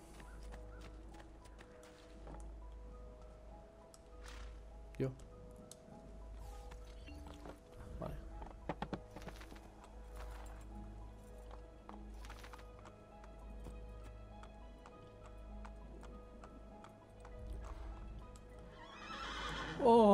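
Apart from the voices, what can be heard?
horse galloping and neighing in video game Assassin's Creed II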